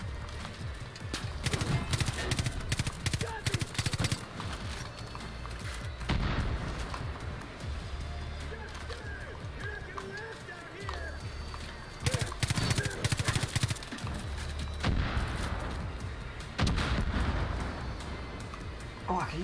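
Mortar and gunfire in the video game Far Cry New Dawn during an outpost assault, bursts of booming blasts and rapid shots in clusters, with players talking over the action.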